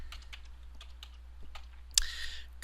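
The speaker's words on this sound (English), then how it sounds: "I'm going to type in the name of the function, format" Close, quiet keystrokes on a computer keyboard come in an irregular, light patter, ending with a slightly louder clatter of keys.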